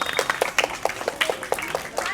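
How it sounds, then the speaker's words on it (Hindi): Children clapping for a guest at a free village coaching centre in Ayodhya, heard as scattered separate claps about every quarter second, moderately close, with voices murmuring underneath. "आप लोग ताली बजाइए इनके लिए, सर के लिए"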